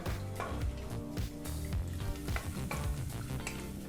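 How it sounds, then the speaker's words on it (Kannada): Ten to fifteen cashews frying on a low flame in oil for tomato biryani, a soft continuous sizzle with busy stirring and scraping throughout, fairly quiet and close; nobody speaks. "ಹತ್ತರಿಂದ ಹದಿನೈದು ಗೋಡಂಬಿನ ಹಾಕಿ ಒಂದು ನಿಮಿಷಗಳ ಕಾಲ ಲೋ ಫ್ಲೇಮ್ನಲ್ಲೇ ಇದನ್ನು ಫ್ರೈ ಮಾಡ್ಕೋಬೇಕಾಗತ್ತೆ"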